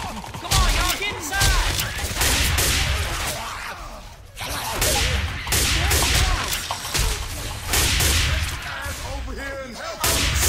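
Gunfire in the video game Left 4 Dead 2 comes as rapid, loud bursts of shots with short gaps and sharp whooshes, while voices chatter underneath.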